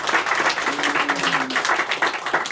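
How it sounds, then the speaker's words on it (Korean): Church congregation clapping during a Sunday morning service, a steady dense round of applause for about two and a half seconds, with a faint voice or hum briefly audible underneath. "우리 박수 한번 하겠습니다"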